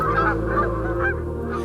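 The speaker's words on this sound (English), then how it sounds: "The cacophony of calls from geese mixed with cranes is an experience every outdoor enthusiast needs to enjoy." Geese honking in a dense, overlapping chorus at the Cibola National Wildlife Refuge in early morning, with cranes mixed among them; loud, steady calling with no talk.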